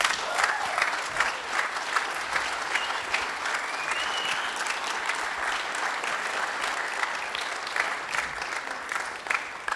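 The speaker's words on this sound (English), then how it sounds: "give these people a round of applause" A live audience at a scleroderma awareness event gives a sustained round of applause, dense steady clapping of many hands lasting the full stretch, with no talk over it.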